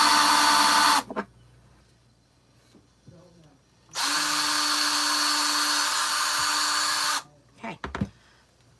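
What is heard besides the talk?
power drill drilling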